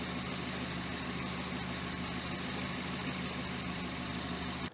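An old Volvo car idles with a newly fitted muffler, giving a steady, even, fairly quiet engine hum and rumble that holds without change for several seconds, then stops abruptly.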